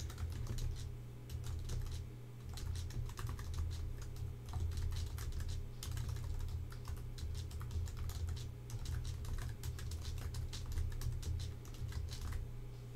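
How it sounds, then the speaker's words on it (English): Rapid, steady clicking of keys on a computer keyboard goes on without pause, close and moderately loud over a low background hum. "So I'm just going to start typing."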